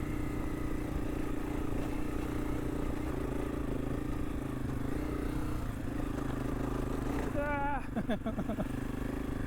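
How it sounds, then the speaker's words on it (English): A motorcycle engine laboring steadily on a two-track alpine trail in Montana, a continuous close drone with wind and rattling, and a rider's brief exclamation near the end. "And you can hear the bike working."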